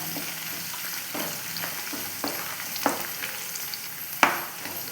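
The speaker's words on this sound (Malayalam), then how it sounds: "ഇനി ഇത് ഈ വെളുത്തുള്ളിയുടെയും ഇഞ്ചിയുടെയൊക്കെ ഒരു കളറൊന്ന് ചെറുതായിട്ട് മാറുന്നിടം വരെ നമുക്ക് വഴറ്റിയെടുക്കാം" Garlic, ginger and curry leaves sautéing in oil for a homemade pickle, a steady close sizzle with occasional spatula scrapes and stirs, no talking.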